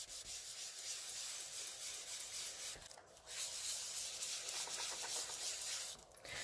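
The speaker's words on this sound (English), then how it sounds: "I just take a lint brush to get that off" A lint brush rubs stray embossing powder off a craft pad in close, quiet, steady brushing strokes with a short pause midway, a soft, dry scrubbing sound.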